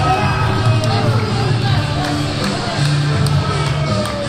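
A wrestling arena crowd reacts as Mike Bennett, wearing a Red Sox jersey, makes his entrance: a steady roar of mixed shouting and babble with scattered whoops, loud and continuous throughout.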